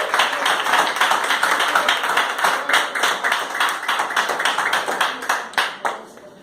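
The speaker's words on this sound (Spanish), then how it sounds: "Den un aplauso a Cristo" A church congregation applauds together in a dense, steady burst of many hands clapping for about six seconds, loud and close, with a few rhythmic claps standing out before it fades.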